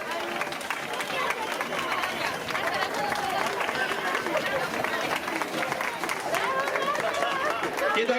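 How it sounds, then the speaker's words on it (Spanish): A crowd at a children's race gives steady applause, cheering the winners with continuous clapping mixed with chatter and voices that run throughout. "Fuerte aplauso para ellas."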